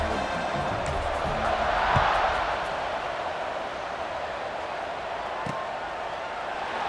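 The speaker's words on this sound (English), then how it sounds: "this crowd now ready to get behind them." Stadium crowd in the College Football 26 video game roaring steadily around a kickoff, a dense sustained wash of cheering that swells briefly near the start and stays loud throughout, with no clear talk on top.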